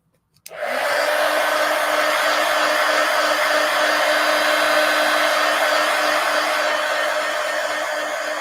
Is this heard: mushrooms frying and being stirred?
no